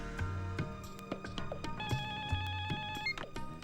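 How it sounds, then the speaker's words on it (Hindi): In a scene from a Hindi film, a telephone rings with repeated electronic bell tones over a busy background of tonal sounds. "आनंद जी, फोन है आपके लिए"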